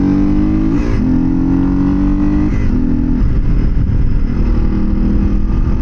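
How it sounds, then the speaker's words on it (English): An old carbureted motorcycle engine drones steadily while being ridden, a loud, continuous mid-pitched hum with a gear change near the start and slight pitch shifts, close and alone without speech. "this bike is pretty good for what it is. Like, yeah, it's slow and old and carbureted"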